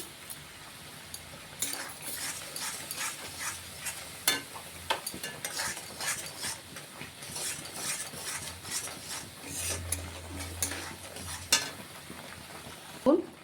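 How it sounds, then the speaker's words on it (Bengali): A spice paste cooked down with yogurt in a pan for a prawn curry, with a low, steady sizzle and irregular close spoon scrapes and clinks against the metal. "ঠিক দইয়ের সাথে মশলাটা কষানো হচ্ছে।"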